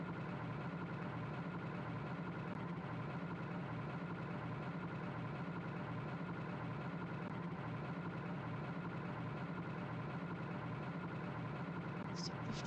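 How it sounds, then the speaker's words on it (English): A loud, steady engine drone from the Myst Masterpiece video game holds an even, continuous hum for the whole stretch without breaks or changes in pitch. "Engine sounds."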